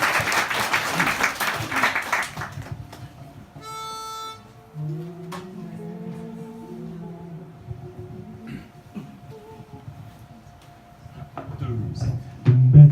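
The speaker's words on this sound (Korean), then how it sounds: "와우, 박수로 청해드리겠습니다" Audience applause at a Christmas joint concert in a bar erupts loudly for about two seconds, then quickly dies away as voices and sustained musical tones take over for the rest of the clip.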